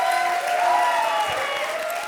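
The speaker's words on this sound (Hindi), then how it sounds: "क्या बात है, जोरदार तालियां।" A studio audience at a comedy stage show applauds in a steady wash of clapping that holds at an even level for about two seconds, with cheering voices mixed in.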